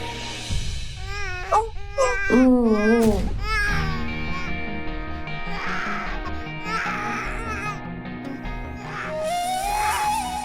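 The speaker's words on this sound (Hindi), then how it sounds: "ये तो विनायक की रोने की आवाज है" An infant cries in loud, rising and falling wails over a soft background music bed, with short breathy sobs between the cries, heard up close in a dramatic household scene.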